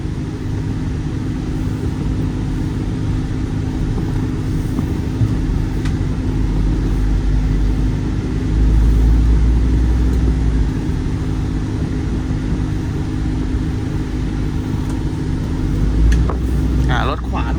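A Toyota Sport Rider 2.5 MT 4x4 D4D diesel idling and pulling away, a steady low engine rumble that swells briefly midway, with a person talking over it.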